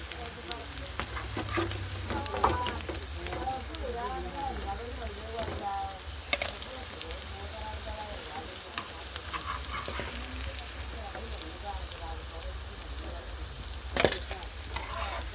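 Chicken cutlets frying in hot oil give a steady, moderate sizzle with small crackles and a few sharper pops throughout, close and continuous with no talking.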